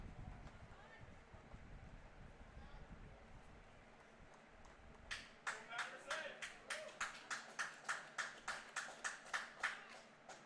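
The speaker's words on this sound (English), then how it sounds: "Getting a little bit of a round of applause" Crowd at a London at Guelph baseball game breaks into steady, rhythmic clapping about halfway through, following a stretch of low, rumbling ballpark ambience and wind.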